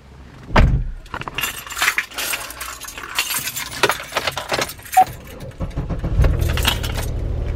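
Car keys jangling by a 2007 Chevy Impala LTZ, loud close metallic rattles and clinks in irregular bursts, ending with a duller rumble as the car is handled.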